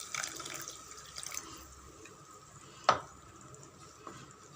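Filtered tamarind water is poured from a blender jar into a pepper-garlic curry in a pan. A soft, steady liquid pour runs under faint kitchen noise, and one sharp clink of the jar against the pan cuts through midway.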